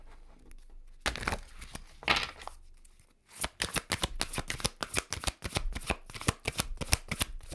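Moonology oracle cards are shuffled by hand, first in a few soft rustling bursts, then in a fast run of crisp, close riffling flicks.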